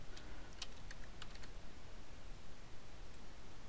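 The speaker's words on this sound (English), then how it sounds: "by just typing right in here." Typing on a computer keyboard, a run of light, irregular key clicks over a steady hiss of background noise, with no talking.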